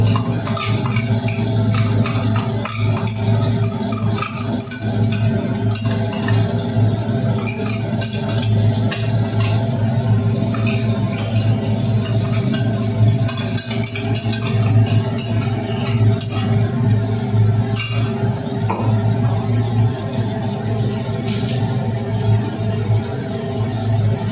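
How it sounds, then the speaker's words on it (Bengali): Onion, chilli and garlic paste being stirred and fried in a pan while cooking a prawn mash, giving a steady, continuous sizzle with frequent scraping and clinking of the spatula against metal throughout. "এবার এর মধ্যে এই পেঁয়াজ লঙ্কা রসুন বাটাটা দিয়ে দিচ্ছি।"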